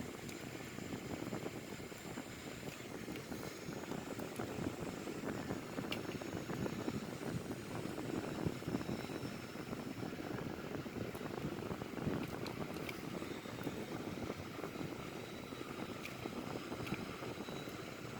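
Airbus A340-313X cabin in cruise at 35,000 feet, filled with a steady, broad engine and airflow roar that stays even and unbroken throughout, with no voices.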